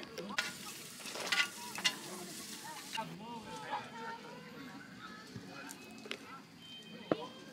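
Pork belly and sausages sizzle on a camping grill at a riverside campsite, a steady crackling fry with sharper pops throughout, while several people chat nearby over the cooking.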